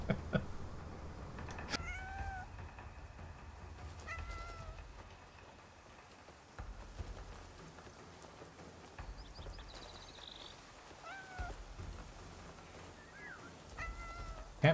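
A cat in the video game Cat Desert meows repeatedly, several short rising and falling mews spaced across the stretch, fairly clear over quiet ambient music and soft background noise.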